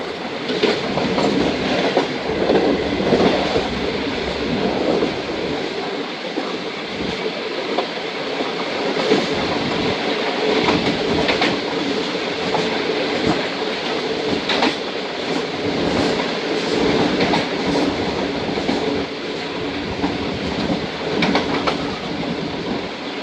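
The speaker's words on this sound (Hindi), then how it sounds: "पास से निकली है ट्रेन" Train cars roll past on a railway line near Multan, a loud, close, continuous rush of rumbling wheels and rhythmic clickety-clack that lasts throughout, with no voices.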